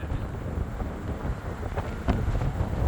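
Strong outdoor wind buffets the microphone on a windy Fourth of July gathering, a continuous loud roaring rumble with a few sharper gusts near the end.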